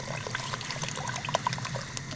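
Water pours into a pot of gravy cooking over a campfire outdoors at night, a soft continuous splashing trickle heard close by, with no talk.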